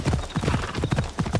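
A horse gallops in Assassin's Creed Odyssey, rapid rhythmic hoofbeats pounding in quick repeated clusters, close and prominent with faint background noise and no speech over them.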